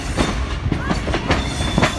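Millat Express train rolling over the diamond crossing at Malakwal Junction, a steady loud rumble with repeated wheel clacks and a faint metallic squeal, heard from on board.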